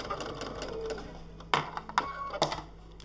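A sewing machine set up for free-motion quilting makes a few slow stitches, separate thumps and clicks with a low motor hum underneath, close and quiet.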